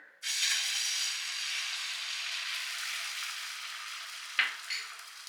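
Beaten eggs hit an oiled pan on a gas stove set to low flame for a bread omelette, sparking a sudden loud sizzle that holds steady and slowly eases, with a brief clatter near the end.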